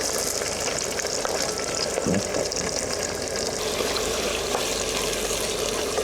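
Onion frying in a generous amount of oil with four or five lengthwise-slit green chillies, a steady loud sizzle with occasional stirring scrapes, close up and with no talking.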